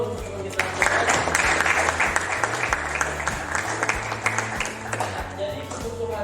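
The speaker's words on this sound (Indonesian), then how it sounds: "aku boleh kasih tepuk tangan dulu untuk teman kita" Classroom applause for a classmate: a steady burst of hand clapping from a group of students fills the whole stretch at moderate loudness, with some voices mixed underneath.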